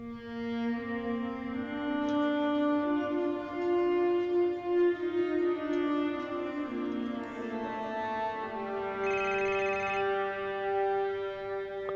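A phone ringtone plays a melodic tune of sustained, layered electronic tones that shift in pitch over several seconds, moderately loud and alone, with a brief brighter chime near the end.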